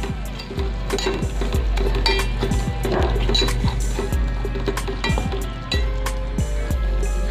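A spoon scrapes and clinks rhythmically against a pan while egg yolk is stirred into egg curry, with sharp repeated taps over a low steady background hum.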